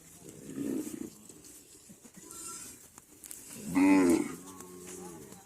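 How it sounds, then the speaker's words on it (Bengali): Cattle at a crowded livestock market near the Bangladesh–India border moo in several drawn-out calls, one loud and close near the middle, with faint background bustle. "অসংখ্য গরু"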